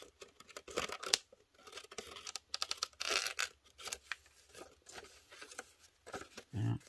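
Scissors cutting paper tags for a junk journal, quiet irregular snips and papery rustles coming in bursts, with some handling noise and no talk.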